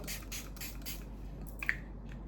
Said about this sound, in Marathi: मेकअपच्या आधी असं स्प्रे करायचं